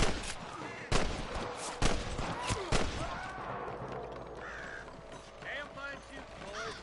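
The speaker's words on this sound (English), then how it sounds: "I can hear more gunshots." Gunfire in a Red Dead Redemption shootout, with a few sharp loud shots in the first three seconds, then scattered quieter firing, crow caws and a voice under a busy background.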